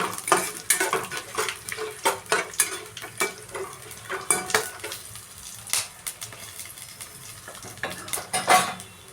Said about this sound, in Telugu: తెల్లగడ్డలు వేసుకొని ఫ్రై చేసుకున్నాం.